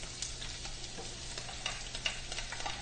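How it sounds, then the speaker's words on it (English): Onions sautéing in olive oil for angel hair primavera make a constant close sizzle and crackle, with small bursts of spattering and no voices. "So we're going to start off with sauteing some onions."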